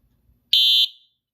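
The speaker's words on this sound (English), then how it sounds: "It tests the horn and the strobe." A Simplex fire alarm horn strobe, tested with a magnet on a Simplex 4100 system, lets out one short, loud, shrill honk of about a third of a second, standing alone in an otherwise quiet room.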